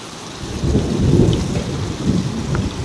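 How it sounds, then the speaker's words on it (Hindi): Heavy rain pours steadily with a strong windstorm while low thunder rumbles and swells underneath, a dense, continuous storm roar with no voices. "कितनी तेज बारिश"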